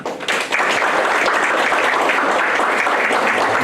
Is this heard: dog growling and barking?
no